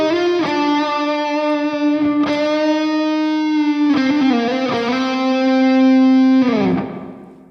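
Electric guitar through a Two Notes Captor X loadbox and cabinet simulator with ambience-mode reverb, playing sustained distorted solo notes and bends that ring out with long reverb tails, close and fairly loud, with no talking.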